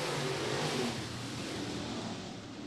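Dirt track race cars in an American All-Star Series B-Main at Lake Cumberland Speedway roar into the turns, a dense, loud engine wash that swells briefly and then settles into a sustained rumble, with no voices.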